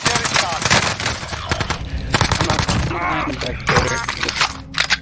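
Call of Duty Warzone gameplay with the AMP63 pistol: loud, dense bursts of rapid gunfire, with other shots and impact noises mixed in, continuing almost without pause through the whole stretch.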